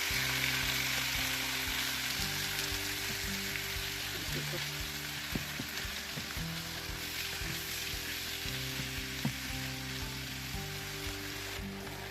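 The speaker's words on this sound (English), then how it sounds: "Add the minced meat. We're using bacon mince, but any mince will work just as well." Frozen bacon mince frying in a pan gives a constant, even sizzle with occasional faint clicks of stirring, a low hum running underneath throughout.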